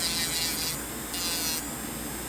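A high, steady whir from an electric nail file fitted with a medium sanding band, grinding with slight shifts in pitch as it works, close and alone.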